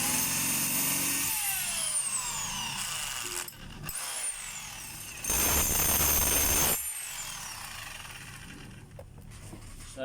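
DeWalt D25032 rotary hammer running in hammer mode during a test after repair, a loud steady mechanical drone with a brief drop in the middle and a louder surge later, no talking.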